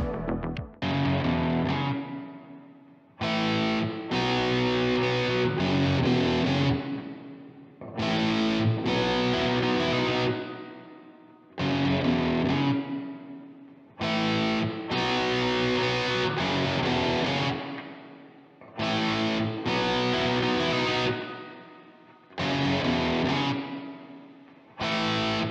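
Heavily distorted electric guitar through the MTurboAmp amp plugin with parallel gain stages plays about eight loud, sustained chord phrases, each separated by brief silences.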